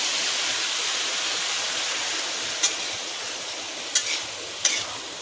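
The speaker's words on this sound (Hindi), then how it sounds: "ये देखिए थोड़ा से पानी डाले दे रहे हैं।" Lobia (black-eyed pea) curry sizzling in a pan and stirred continuously with a steady hiss after water goes in, a few sharp scrape or clatter hits from the spoon near the end.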